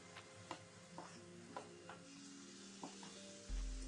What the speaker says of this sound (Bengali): ভালো করে মশলাটাকে কষিয়ে নেবো আমরা